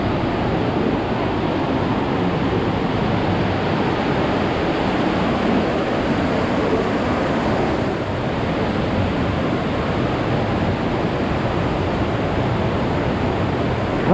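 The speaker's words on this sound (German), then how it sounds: "Krass, wie das Wasser hier runterfällt," Water pours down through the Partnach Gorge in Bavaria, a loud, unbroken roar of falling water that fills the whole stretch without pause and with no voices over it.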